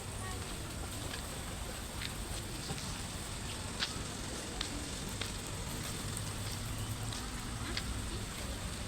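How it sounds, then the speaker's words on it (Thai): Steady outdoor rain falling, a soft continuous hiss with faint scattered patters, fairly quiet and uniform throughout with no voices. "ฝนตกแล้ว"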